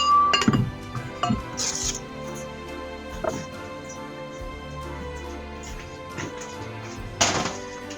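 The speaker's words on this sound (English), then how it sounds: "we're going to go get our trusty handy-dandy cast iron pan" A cast iron pan is fetched and handled in a home kitchen: scattered light clinks and knocks of cookware, mostly soft and close, with one sharper clatter near the end.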